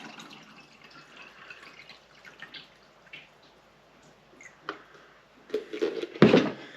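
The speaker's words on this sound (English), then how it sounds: "I'm going to pour it in my clear glass because this Tupperware is a little dirty" Water poured from a portable filter's plastic container into a clear glass, with a soft trickle building to a louder, close splashing pour at the end.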